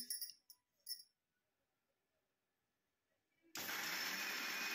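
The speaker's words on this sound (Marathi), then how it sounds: "तर आता हे मिक्सरला छान वाटून घेते." A home mixer grinder grinding a dry masala blend for a traditional mixed-vegetable dish starts abruptly after a few light clinks and a quiet pause, then runs as a loud, steady, close whirring roar to the end.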